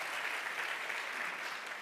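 Steady applause from the audience at a patient-experience panel discussion, dense and even, filling the room for a couple of seconds with no voices on top.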